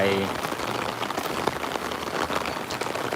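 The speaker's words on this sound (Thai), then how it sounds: "พอจอดรถปุ๊บ ฝนก็ตก นะครับ ฝนตกเลย" Steady rain patters densely on a surface nearby, a continuous hissing wash with scattered louder drops.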